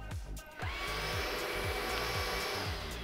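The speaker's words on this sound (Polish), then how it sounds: "Odkurzacz w tej chwili startuje i my nie musimy trzymać tego guzika" A Xiaomi ROIDMI X20 cordless handheld vacuum cleaner starts up after a short button press, its motor quickly rising into a loud, steady, close whine that holds evenly to the end.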